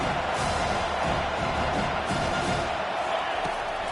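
A large crowd at a college football stadium roars without pause, a dense wash of cheering and noise that stays loud throughout, as at Auburn versus Miami with the home side pinned deep near its own end.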